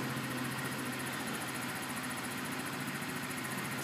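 A 2012 49cc scooter engine runs at a steady idle, giving a constant buzzing drone close by with no revving or talk.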